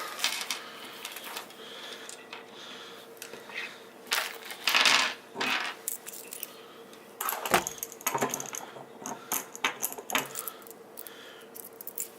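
Small metal washers for a homemade cable camera rig clink and rattle as they are handled, with scattered jingling bursts and brief metallic clicks up close, a quiet background between them.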